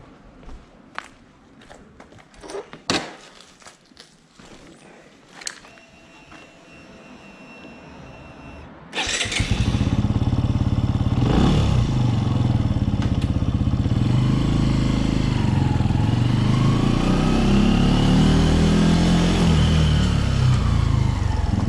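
Benelli TNT135 motorcycle after its 600-mile service: quiet handling clicks and taps first, then the small engine fires up loudly and runs close with a steady buzzing idle and rising revs as it pulls away.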